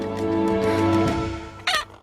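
A chicken clucks in a steady run of short harmonic calls, loud and close, with a sharp bright burst near the end; no voices present.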